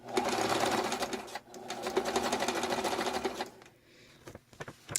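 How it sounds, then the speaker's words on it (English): A sewing machine runs a standard zigzag stitch over ribbon laid on a junk journal page, a steady loud mechanical whirr that stops briefly, resumes, then breaks into a few short bursts near the end. "It's just a standard zigzag stitch that I'm going to sew on top of this ribbon."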